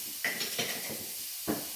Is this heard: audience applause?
no